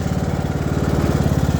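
A ride-on lawnmower engine runs close and loud, a steady, rapidly pulsing putter that holds throughout the clip, with no talking over it.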